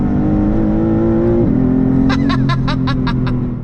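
A 2023 Maserati MC20 engine drones steadily while driving, then its pitch drops as it shifts, followed by a rapid series of sharp rising revs.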